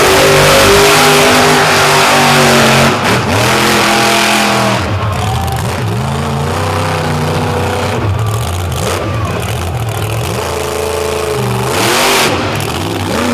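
Frontier Truck Parts Chevrolet pulling truck at a truck pull, loud close engine revving with rising and falling harmonic sweeps, a hard high-rpm blast at first then repeated throttle surges and drops.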